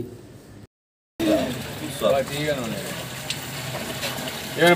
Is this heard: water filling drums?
yes